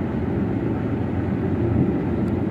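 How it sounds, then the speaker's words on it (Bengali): A bus passes on a road heading to the Padma Bridge, a loud, steady low engine and tyre rumble that fills the whole stretch without a clear rise or fall, with no talking. "এই যে বাস চলে গেল"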